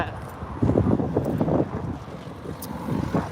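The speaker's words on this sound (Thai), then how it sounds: "โอ้ลมแรงลมแรง" Strong wind gusting across an open field, a loud, steady broadband rush with surging gusts, heard alone without talk.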